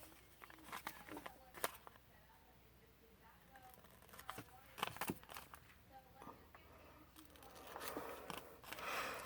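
Scissors make repeated crisp snips through paper scraps or gift wrap for DIY pockets and bags, close and fairly quiet, in irregular bursts with handling rustle between cuts.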